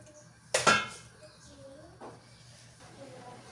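A quick rattling pour of rice into a cooking pot, followed by faint softer rustles and a low simmering hiss.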